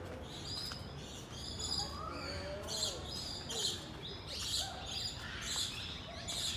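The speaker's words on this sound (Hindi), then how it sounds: "जगह जगह इस तरह से बैठे हुए पक्षी, ये कलरफुल बर्ड्स।" Birds calling in the walk-through bird house at Indore Zoo in India, a busy mix of faint chirps, tweets and cooing-like calls repeating throughout, distant and soft over a steady background murmur.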